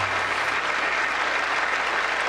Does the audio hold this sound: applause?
yes